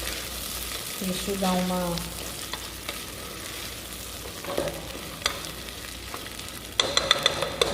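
Beef chunks returned to a hot pan hiss and sizzle steadily while being stirred, with a spoon scraping and clinking against the pan; someone speaks briefly in Portuguese over the frying.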